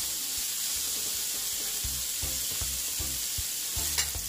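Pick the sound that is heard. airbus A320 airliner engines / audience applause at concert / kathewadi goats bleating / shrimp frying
shrimp frying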